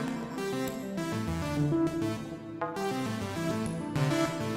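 Arturia MicroFreak synthesizer running a sequence with a different sound on each step, producing a dense, busy pattern of changing tones and percussive hits at a steady pulse, close and loud with no voices.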